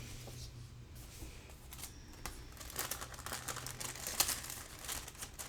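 A small glassine bag holding a journaling card crinkles and rustles steadily as it is handled up close, the crackling growing busier toward the end.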